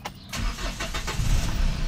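A Hyundai H100 van's engine cranks briefly and catches, then settles into a loud, steady rumble close by.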